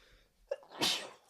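One sharp sneeze breaks out close to the microphone after a short intake of breath, then trails off into quiet.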